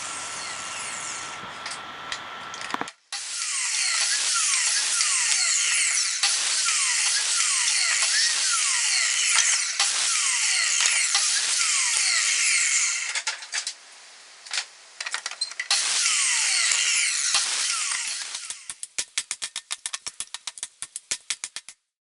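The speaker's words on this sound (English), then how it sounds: "I'm just using the compound saw to cut out the nails and the knots." A compound saw cuts nails and knots out of reclaimed pallet boards: a loud, sustained high-pitched whine through several long cuts, a pause, another cut, then the blade spinning down with rapid ticking.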